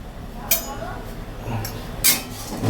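A utensil clinks and scrapes against a metal pot while salted water is stirred for boiling fish roe. There are three short, bright metallic taps between quieter swishing, close by.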